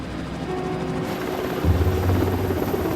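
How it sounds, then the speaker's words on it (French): Sea King helicopters lift off from the aircraft carrier HMS Hermes, a steady loud rotor and engine roar that swells heavier partway through, with no voices. "C'est d'ici que les hélicoptères Sea King vont décoller."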